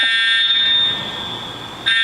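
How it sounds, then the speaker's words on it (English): A fire alarm shrieks loud and close, one sustained high electronic tone that dips briefly and then blares again at full strength, with no voices. "Alarms from like 2 or 3 different locations, so that's a pretty good indication that it is."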